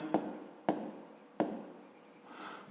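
Pen or pencil writing by hand on paper while working a school maths exercise, in three short bursts that each open with a sharp tap of the tip and trail into soft scratching strokes, close and quiet.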